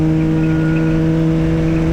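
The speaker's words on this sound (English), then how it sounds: "See the cars pulling away as soon as we get in a straight line." Race cars in the BRSCC CityCar Cup at Silverstone accelerate on a straight, a steady, loud droning engine note heard from inside the car.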